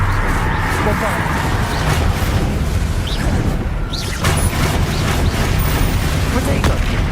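Bombarda blasting spells in the Hogwarts Legacy video game, giving dense, rumbling explosive booms that roll on continuously with heavy low-end under a busy mix of game noise.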